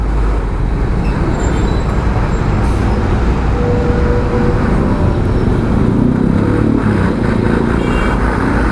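Dense road traffic in a long jam rumbles loud and continuous, a mix of car, bus and motorcycle engines idling and creeping close by, with no talk over it.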